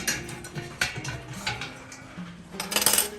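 Glass jam jars clink and clatter against metal as they are set into a canner of boiling water, a series of close, bright knocks and rattles with a bubbling undertone.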